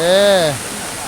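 Rushing water at the seventh tier of Erawan waterfall in Kanchanaburi, a steady broadband wash that continues after a short voice at the start.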